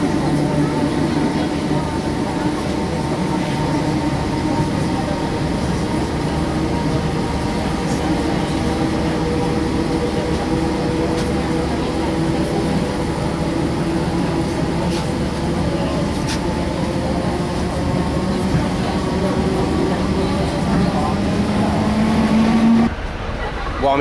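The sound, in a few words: train arriving at the station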